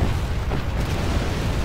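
An artillery cannon explodes in the Command & Conquer Generals mod, a loud, continuous low rumbling boom that fills the whole moment with no speech.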